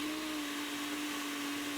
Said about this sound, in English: The cover goes on and we let the blender do its thing.